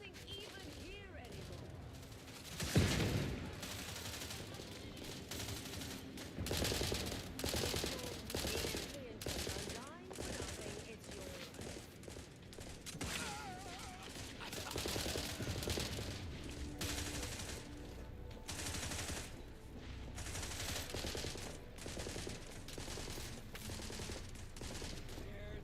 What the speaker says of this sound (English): A little bit of a firefight. Let them shoot it out.